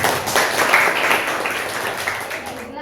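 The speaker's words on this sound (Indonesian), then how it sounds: "Oke, kita kasih aplaus dulu" Students in a classroom applaud, a steady wash of clapping that holds at an even level for nearly three seconds, with faint voices mixed in.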